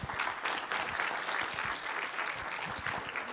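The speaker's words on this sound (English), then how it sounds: "So their round of applause for them." Audience applause fills a hall at an HR talent event, a dense, steady burst of many hands clapping close by, with no talk over it.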